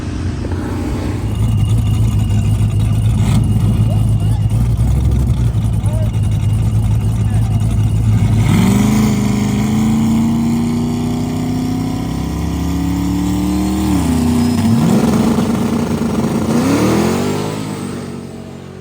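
A drag race car revs and accelerates hard, its engine pitch sweeping upward through several gear changes, loud and close, with a steady engine drone beforehand and voices faintly mixed in.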